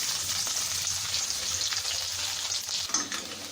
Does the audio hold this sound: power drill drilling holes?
no